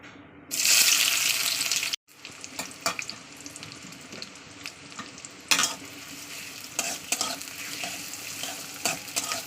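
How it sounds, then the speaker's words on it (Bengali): Onion dropped into hot mustard oil for a magur fish bhuna, a loud burst of sizzling followed by steady frying with spatula stirring and scraping against the pan. "তেলটা আমার গরম হয়ে গেছে আমি এবার এতে পেঁয়াজটাকে দিয়ে দেব"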